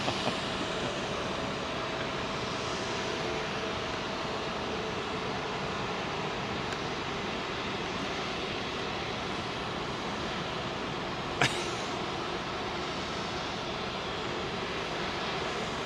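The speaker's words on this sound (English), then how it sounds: "Slow departure." An aircraft slowly departs London Heathrow runway 27L, a steady broad engine rumble and hiss held throughout at moderate distance, with one brief sharp click partway through and no talk.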